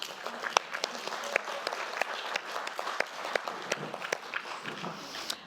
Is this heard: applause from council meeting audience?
yes